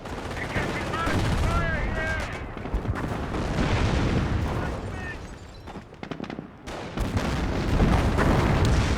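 Officer-called artillery strike in the Company of Heroes video game, with dense gunfire and booming shell impacts running through the whole stretch under a busy battle mix, loud and continuous, with speech faintly mixed in.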